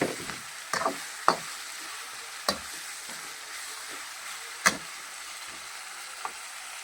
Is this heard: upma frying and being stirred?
yes